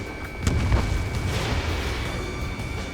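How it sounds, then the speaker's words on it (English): A missile launches in the Ace Combat 7 video game with a sharp boom, followed by a long rushing roar that fades slowly over steady engine noise. "Mage 2, missile away"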